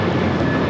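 An Alaska Airlines Boeing 737-800 roars down the runway on takeoff at LAX, a loud, steady broadband jet engine rush filling a brief moment with no voices.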